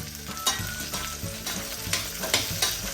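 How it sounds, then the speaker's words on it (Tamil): Onions sautéing in a pan while an oats-and-red-lentil dosa batter is prepared, with a steady close sizzle broken by the regular scrape and clatter of stirring. "வெங்காயம் வதங்கி வந்துடுது"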